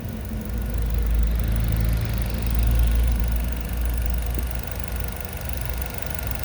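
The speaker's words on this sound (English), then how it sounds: "That engine is sounding good" A 2020 Nissan Versa SV engine idles close by with a steady low hum and a light mechanical rattle, gently rising and falling in loudness, with no talk.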